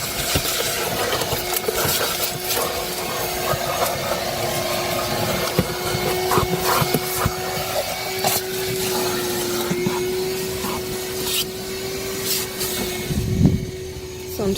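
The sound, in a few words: vacuum cleaner vacuuming a car interior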